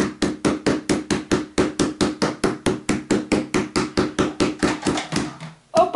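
Steady, rhythmic thuds of a meat mallet pounding chicken for chops, about two dozen evenly spaced blows, close and loud, ending with a brief pause.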